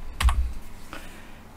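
Brief burst of computer keyboard typing, a few quick close key clicks followed by a lighter keystroke, with nothing else audible.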